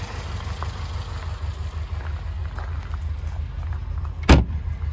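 A 1971 Lancia Fulvia 1300 S idles steadily with a low, even engine rumble throughout, broken near the end by one brief sharp click or knock.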